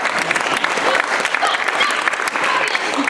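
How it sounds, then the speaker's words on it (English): Audience applause at a live comedy show, a brief burst of dense clapping with some voices mixed in. "Clap for me, comrades."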